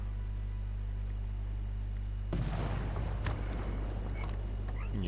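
Units trade fire in Civilization VI. After a steady low engine-like hum, a dense volley of gunshots and impacts breaks out midway and keeps rattling, with a couple of sharp cracks.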